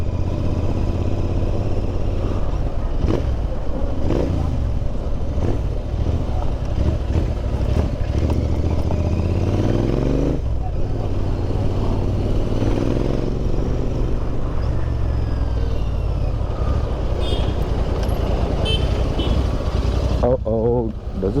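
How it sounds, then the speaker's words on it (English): Royal Enfield Interceptor 650 motorcycle fitted with a Powerage exhaust and Fuel X Pro, heard while riding: a steady, loud engine drone with continuous wind rush throughout, rising and falling slightly with throttle changes. "I'll let it play for a bit because you know, the exhaust sounds nice."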